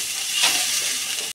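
Spice masala sautéing and being stirred in a pan for a Mughlai dish: a close, steady sizzling hiss that barely changes throughout, with no voices.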